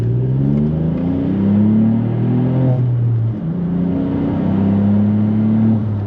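A VW Up GTI with a dual exit straight pipe exhaust drones from inside the cabin, its small engine rising and falling through several revving pulls with a steady, buzzy exhaust note and no talking.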